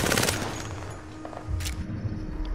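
Rapid automatic gunfire in Apex Legends, a fast burst of crisp shots at the start, then a brief lull, then more shots and a low thump, all fairly close.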